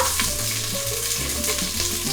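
Scallion whites and greens sizzle and get tossed in an Instant Pot, a continuous loud frying hiss with scraping and knocking from the stirring mixed in.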